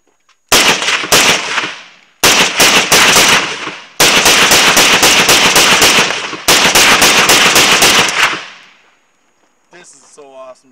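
An AR-15 rifle fired outdoors in four loud rapid-fire strings of sharp, cracking shots separated by brief pauses, closing with a short excited voice.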